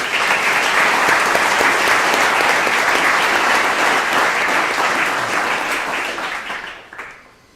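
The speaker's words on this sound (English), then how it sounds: "So please give them a round of applause." A crowd at a community program event breaks into loud, dense, sustained applause that carries on steadily for several seconds before fading out at the end.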